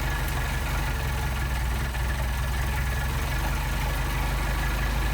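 A Mercedes 190SL engine with Solex carburetors idles steadily at close range, a continuous low mechanical rumble with a faint uneven knock, and no voices.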